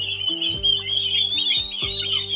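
Young turkey chicks about one month old, kept on a farm, call in steady high-pitched peeping and chirping that runs throughout, with a few lower clucking notes rising and falling close by.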